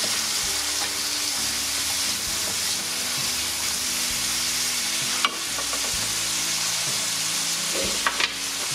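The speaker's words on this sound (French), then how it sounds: "vous allez venir prendre une louche d'haricots, les incorporer au mélange" Refried beans frying with onions and spices, a steady close sizzle with a spoon or ladle stirring and scraping through it, plus a couple of sharp knocks.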